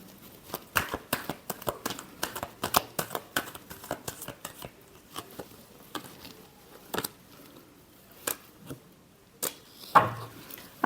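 Tarot cards being shuffled, a fast run of crisp riffling snaps and flicks that slows into scattered single taps and card slaps, close and clear with no talk over it.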